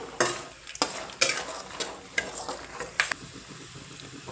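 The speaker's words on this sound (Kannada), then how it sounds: "ನಾನು ಇಲ್ಲಿ ಎಣ್ಣೆ ಒಳಗನ್ನ ಫ್ರೈ ಮಾಡಾಕತ್ತೀನಿ" Churumuri tempering ingredients fry in oil in a pan, the soft crackle broken by a series of sharp scraping and stirring strokes, some spaced and some grouped, each rising above a low background sizzle.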